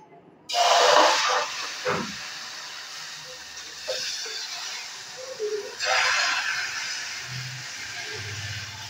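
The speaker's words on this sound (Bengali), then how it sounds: "এখন আমি অল্প অল্প করে ব্যাটারটা দিয়ে দেব" Batter for pati jora is poured onto a hot oiled pan and hisses, a loud sudden sizzle that fades and then flares again as more batter goes in, with no talking.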